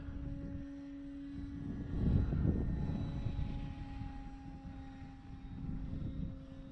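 A small engine drones steadily at a distance, swelling slightly louder as the HobbyZone Carbon Cub S2 radio-controlled model airplane passes on a spring day, then easing back, with no talking.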